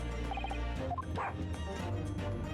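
A cartoonish dog, Toby, yips and barks in short bursts in The Great Ace Attorney Resolve, set over a steady low game music backdrop.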